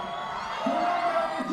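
A concert crowd in Spain cheering for the singer: a dense, sustained roar with voices whooping and singing along, swelling slightly in the second half.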